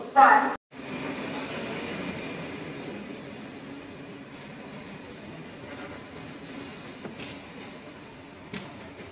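Steady rolling rumble of the Salem Express passenger train running non-stop toward Villupuram, heard from inside the coach, with a brief sharp burst and dropout near the start and soft clicks over the continuous drone.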